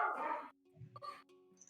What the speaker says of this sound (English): that's a very loud puppy